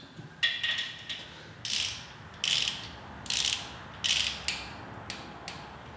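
An old inch-pound torque wrench clicks at a steady rhythm during short block assembly of a Mustang 4.6L 3V engine. Six crisp, close ratchet clicks come about a second apart, with no talk.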